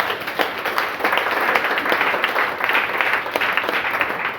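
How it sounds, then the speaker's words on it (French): A church congregation applauds steadily, a dense wash of many hands clapping that carries on evenly for several seconds without any voice over it. "Acclamez le Seigneur."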